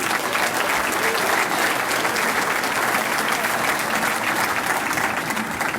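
Sustained audience applause fills a winery event for a women's basketball gathering, steady and loud throughout with a dense crowd texture.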